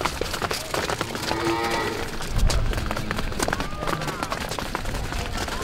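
Cows being let out into a pasture moo and rush about, with lowing calls and hoof and movement noise amid outdoor bustle; people talk in the background.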